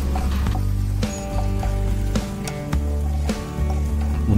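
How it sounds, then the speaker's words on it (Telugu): Garlic and curry leaves frying in a hot pan for a restaurant-style dry chilli chicken, a steady loud sizzle with repeated scrapes and stirs of a spatula at intervals, no voices. "ఇప్పుడు కొన్ని కరివేపాకు రెబ్బల్ని కూడా వేసి ఫ్రై చేసుకోవాలి."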